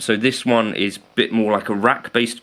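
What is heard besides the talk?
No everyday noises stand out.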